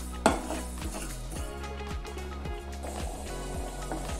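Coriander seeds and urad dal roast over a very low flame in a pan, with a sharp clink near the start, then quiet rustling and light scraping as they are stirred.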